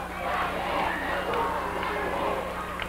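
A wrestling crowd at a 1980 Memphis TV arena event keeps up a continuous, swelling roar of jeering and babble aimed at a wrestler. A commentator's voice sits under the noise.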